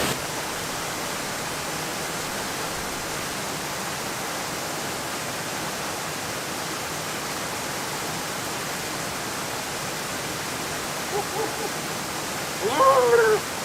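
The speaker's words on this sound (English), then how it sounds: "You can't really hear much because it's waterfall" A waterfall rushes near a woodland campsite, a steady broadband roar that holds evenly from start to finish, with a brief faint voice-like sound near the end.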